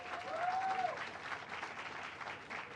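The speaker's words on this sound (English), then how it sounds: "Let's give them a round of applause as well." An outdoor crowd at a New York City housing groundbreaking applauds in steady, fairly distant clapping for a few seconds, with a brief whistle-like tone rising over it early on.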